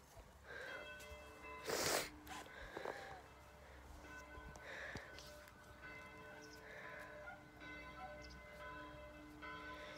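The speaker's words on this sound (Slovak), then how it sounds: "Je už večer, zvoní v kostole, je 6 hodín." Church bell tolling at six in the evening, heard faintly from a distance among sheep or goat bleats and outdoor ambience, with a few brief voices.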